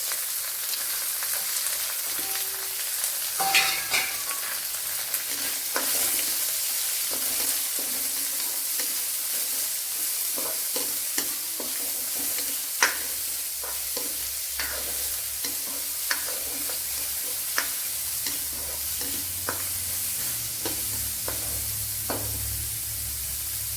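Sliced onion sizzles steadily in a hot pan for a Kerala-style bitter gourd stir-fry, with repeated sharp scrapes and taps of a spoon stirring against the metal throughout, close and clear.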